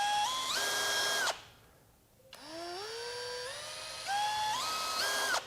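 A Kobalt 24-volt right angle impact wrench spins up and down on its variable speed trigger, rising whine pitches sweeping up in three bursts with a brief quiet gap between, close and fairly loud with no talk.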